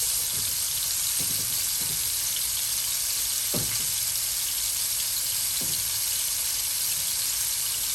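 Swedish meatballs browning in a hot pan give a steady, even sizzle that runs throughout, with a few soft low thumps as they are turned or set down.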